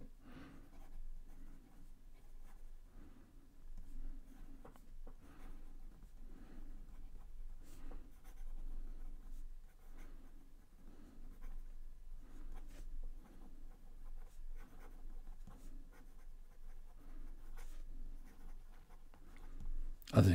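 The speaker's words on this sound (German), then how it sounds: "wie hier die Feder, die B-Feder des Pilot Birdie über das Papier gleitet" A Pilot Birdie fountain pen with a broad B nib glides over paper in soft, close scratchy strokes, writing in a steady rhythm of short scribbles with brief pauses, quiet and alone without any speech.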